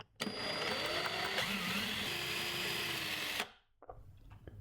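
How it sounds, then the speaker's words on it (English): A power drill whirs loudly and steadily for about three seconds, drilling through the inside of a drawer into the back of a rosewood handle, then stops abruptly, followed by a few faint clicks and handling noises. "Now I'm going to drill through the inside of the drawer and into the back of the handle."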